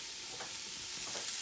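Food sizzles steadily in a hot pan while chicken and rice soup is cooked, a close, continuous hiss with faint stirring scrapes and no talk.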